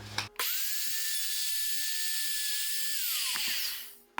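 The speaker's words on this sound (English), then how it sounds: "I've just got a regular straight bit in this router" A plunge router fitted with a straight bit, set in a drawer pull and handle jig, spins up to a steady high whine that holds for about three seconds before winding down.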